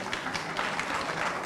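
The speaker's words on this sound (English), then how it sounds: "a huge round of applause for the host team," At a university Model UN closing ceremony, the audience gives the host team a round of applause, with dense, continuous clapping at an even level throughout and no clear speech over it.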